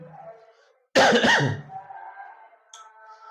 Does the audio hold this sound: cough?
yes